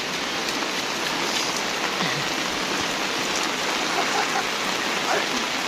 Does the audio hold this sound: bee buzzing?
no